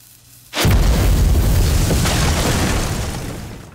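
A bomb goes off in a Chinese wartime TV drama: a sudden loud, close boom after a brief quiet start, with a rumbling roar that fills the rest of the moment and slowly fades.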